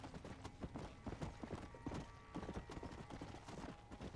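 Horse hooves clip-clop in a quick, irregular rhythm in the game Red Dead Redemption: Undead Nightmare, fairly close and faint, with small mechanical rattles and no talk.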